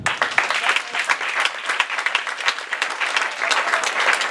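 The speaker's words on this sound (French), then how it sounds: "Est-ce que tu peux acclamer le Seigneur?" A church congregation applauding during a worship service, loud sustained clapping from many hands, close and continuous without a break.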